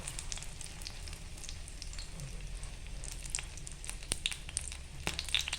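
Egg and bread frying in a pan on a medium gas flame, giving a steady soft sizzle throughout with a few sharper crackles and pops near the end, no talking.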